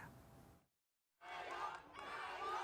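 A crowd cheers and shouts for Thai politician Pita Limjaroenrat, whose party won the general election, a dense roar broken by a brief silent gap before swelling back loudly.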